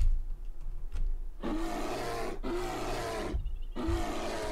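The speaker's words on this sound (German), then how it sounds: "jetzt habe ich den Bären definitiv gesehen" A bear roaring in the survival video game 7 Days to Die, with three loud, close, rasping roars separated by brief gaps and no talking.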